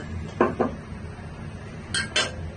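A hot, smoking wok with a little oil, heated for stir-fried beef with onions, is moved on the stove: two close metallic clanks, a pause, then two brighter clanks, near and fairly loud, with no talking.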